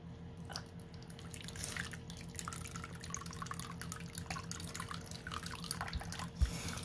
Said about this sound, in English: you're gonna go rinse that out